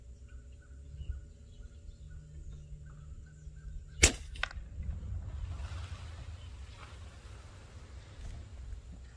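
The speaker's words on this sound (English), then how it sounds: "we're gonna make a shot on those 65 yards, and it's gonna be an eruption of starlings" A single sharp crack from an FX Dream-Tac air rifle fired on a farm at starlings 65 yards away cuts through quiet outdoor ambience, followed by a soft rush of fluttering birds.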